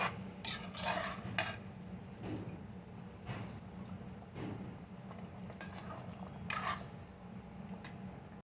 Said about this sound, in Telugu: ఆ తర్వాత స్టవ్ ఆన్ చేసుకొని బాగా మిక్స్ చేసుకోవాలి.